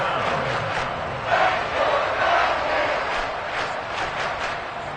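A broad wash of crowd noise in an American football video game, like cheering and applause, swells steadily throughout at moderate loudness with no voices standing out.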